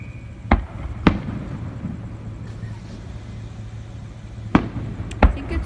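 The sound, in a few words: Fourth of July fireworks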